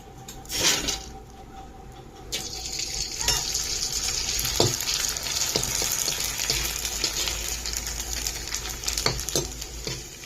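Rice flour vadiyalu dropped into hot oil, a steady close frying hiss that swells after a brief quieter start, with occasional clicks of a utensil against the pan.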